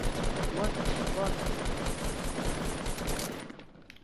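Rapid automatic gunfire in the video game Fortnite Battle Royale, loud and continuous, crackling for several seconds and then cutting off into a faint tail. Some speech is mixed in.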